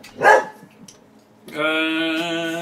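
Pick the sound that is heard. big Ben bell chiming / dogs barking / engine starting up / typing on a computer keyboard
dogs barking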